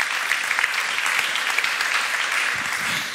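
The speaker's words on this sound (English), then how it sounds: "big round of applause for our third speaker" Sustained audience applause at a re:publica 2018 conference panel on digital rights, a dense steady clapping from a large crowd throughout, close and fairly loud with no talking over it.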